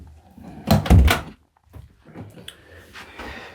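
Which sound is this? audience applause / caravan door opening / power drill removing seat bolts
caravan door opening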